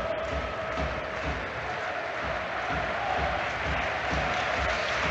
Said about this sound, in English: Ballard is receiving applause as he makes his way off the pitch